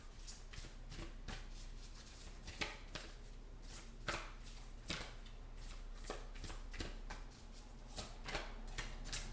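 Oracle cards are shuffled by hand in quick, irregular bursts of crisp riffling and slapping, close and fairly quiet, with no speech over them.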